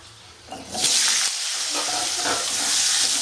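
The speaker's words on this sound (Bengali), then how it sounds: "তেল আর ঘি একসাথে দিয়ে আমি আলুগুলো ভাজবো" Potatoes hit hot oil and ghee with turmeric in a pan for a Bengali-style cabbage dish, and a sharp hiss rises quickly into a loud, steady, bright sizzle that carries on without talk.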